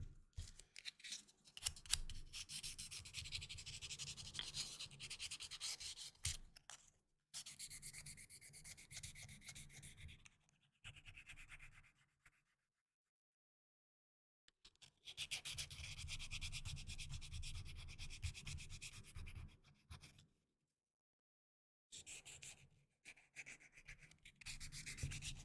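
Repeated rubbing and scraping as a small part of a mini craft kit is sanded by hand, in several long continuous passes broken by short silent pauses, quiet and close with no talking.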